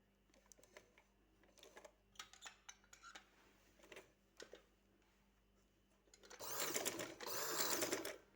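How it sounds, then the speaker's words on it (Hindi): A sewing machine stitches a slit design with joint lace on a garment's daman, giving light scattered clicks and ticks before a loud, steady run of stitching near the end. "यहाँ से हमने स्टिचिंग शुरू कर देनी है"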